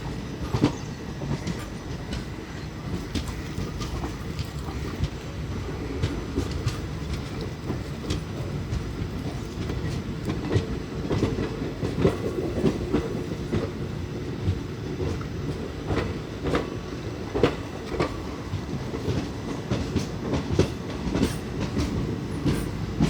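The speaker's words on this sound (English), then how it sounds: "Alco locomotive from Ernakulam shed is shunting this rake." A Mangaluru–Vijayapura Express passenger train hauled by an Alco diesel locomotive runs on rails near Mangalore, with a steady loud rumble, dense rhythmic clickety-clack of wheels over rail joints and occasional sharper clanks, no voices.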